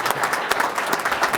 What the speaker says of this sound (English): please, everybody stand up and give Doug Williams a round of applause